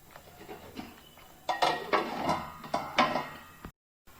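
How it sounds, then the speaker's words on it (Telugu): Metal lid set onto a cooking pot of egg masala curry, a handful of close clinks and clatters with one brief rattle before the sound cuts off, no voices. "ఇప్పుడు ఒక 5 మినిట్స్ మూత పెట్టేద్దాం."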